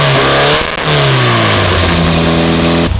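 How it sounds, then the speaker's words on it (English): A Volkswagen car engine revs loudly and up close at an Australian VW car show, with the pitch climbing and falling in sustained, throaty pulls over about three seconds. "Beautiful sounding engines."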